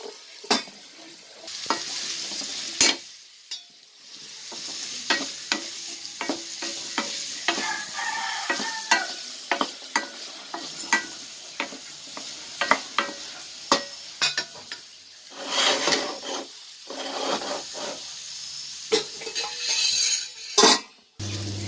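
Garlic sautéing in a pan for garlic kuzhambu, a continuous oily sizzle broken by frequent sharp clinks and scrapes of a spoon stirring against the metal pan, loud and close with no talk.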